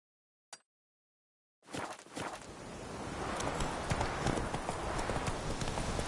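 Hooves of Roach, a horse in The Witcher video game, clip-clop at a steady walking rhythm, close and clear, after a brief isolated knock and a moment of silence.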